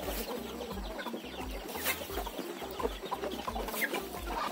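Chickens cluck busily as they are let out of their coop in the early morning, a steady close chorus of short clucks over a rhythmic low background with no talking.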